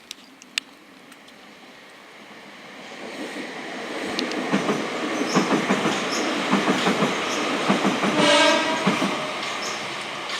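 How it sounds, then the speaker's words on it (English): A train crosses the Tonbridge rail bridge, building from distant rumble to a close, loud rolling clatter of wheels, with a horn sounding near the end and no talking. "Oh, train."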